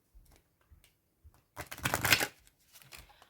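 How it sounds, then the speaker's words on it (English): Tarot cards riffled and shuffled by hand, a soft papery burst of flicking cards after a few light taps and handling sounds, close and quiet with no talking. "let me shuffle the cards"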